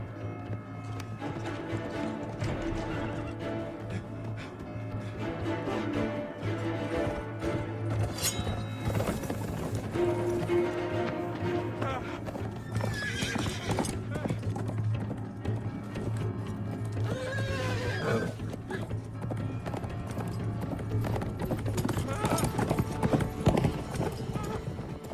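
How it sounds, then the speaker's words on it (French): Horses gallop in a Chinese adventure film scene, with steady clip-clop hoofbeats throughout, neighs and whinnies breaking through, and shouting voices and dramatic sound mixed over the top. "Allez, à cheval!"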